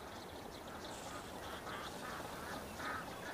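Large flock of about ten thousand ducks calling across open summer water, a dense continuous chatter of overlapping quacks with slightly louder bursts rising from the steady distant din.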